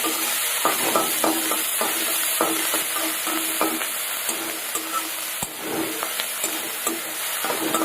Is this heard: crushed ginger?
yes